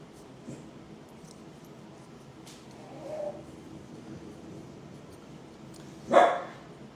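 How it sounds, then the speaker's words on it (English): A mostly quiet indoor scene broken by one sharp, loud dog bark near the end, with a couple of faint yips earlier. "Why is she still barking?"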